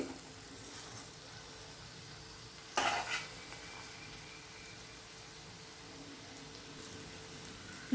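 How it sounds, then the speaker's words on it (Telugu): Broad bean fry is stirred slowly in a pan, with soft, quiet scraping and faint sizzling, plus one louder clatter of the utensil partway through. "ఇదంతా కూడా చాలా స్లోగా కలపండి, ఎందుకంటే ముక్క విడిపోయిద్ది."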